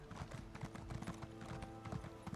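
Horse hooves clip-clopping in the Elder Scrolls Online video game, a quick, even drumming of steps under a steady game background, fairly faint.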